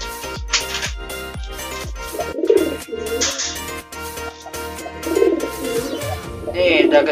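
Pigeons being handled and placed into a coop give soft, repeated cooing amid clattering, tapping handling noises and some rustle, moderately close and fairly loud throughout.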